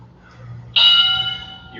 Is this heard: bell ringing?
yes